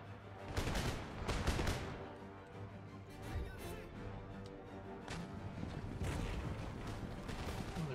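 Massed musket volleys from line infantry in Empire: Total War, a dense, continuous crackle of overlapping gunfire with heavier bursts, loud and sustained throughout with distant booms beneath.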